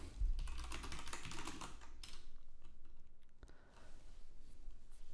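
Rapid typing on a computer keyboard while cloning a Python project from GitHub, a dense run of light key clicks over about two seconds, then sparser taps after a pause.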